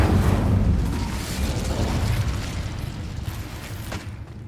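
The Incendio fire spell from Hogwarts Legacy erupts as a loud, close, whooshing burst with a deep rumble that slowly fades over a few seconds.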